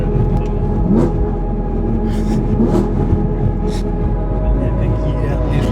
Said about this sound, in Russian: Бля, какие рядные шестерки.